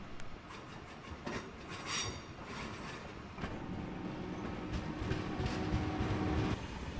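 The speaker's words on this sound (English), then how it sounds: "The trains live upstairs, and there's a lot of them." Rumbling train noise fills Amsterdam Centraal station's large elevated platform hall, with steady low mechanical roar, scattered clanks and brief high squeals, growing louder near the end; no one speaks.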